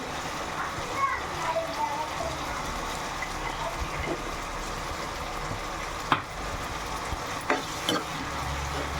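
Vangibath masala with turmeric frying in a pan, a steady close sizzle with stirring scrapes and a few sharp clinks, continuous throughout.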